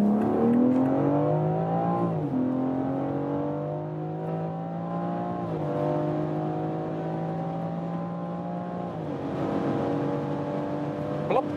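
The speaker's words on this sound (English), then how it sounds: "Nice engine sound. This 3-liter six-cylinder" A BMW SUV's 3-liter six-cylinder engine pulls hard through its gears from about 50 km/h, with the rising tone dropping at each shift and a steady, smooth drone heard from inside the cabin.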